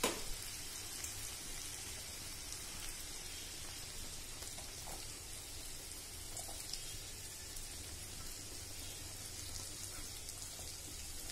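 Onion frying in browned garlic in a pan, a steady soft sizzle and crackle running continuously and fairly quietly.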